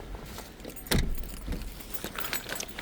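A bunch of car keys jangles in short metallic bursts near a car in a snowy blizzard, one sharper shake standing out over faint background rustle.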